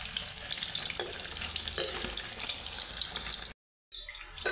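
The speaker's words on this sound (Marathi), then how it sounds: "पनीर थोडं तेलामध्ये फ्राय करून घ्यायचं आहे" Paneer cubes frying in hot oil, a dense close hiss of sizzling with a few soft stirring knocks, continuous except for a brief dropout near the end, no voices.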